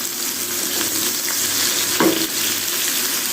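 Sliced onions fry in a pan at medium heat for an Afghani omelet, giving a steady close sizzle throughout with a brief louder crackle and stir near the middle.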